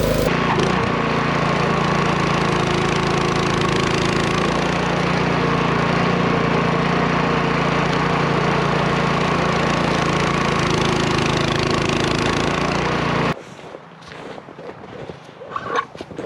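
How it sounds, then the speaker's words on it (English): A snowblower runs steadily through about 16 inches of snow, a loud continuous engine roar that holds for several seconds and then cuts off abruptly, leaving quiet outdoor ambience. "Gotta get to my snowblower."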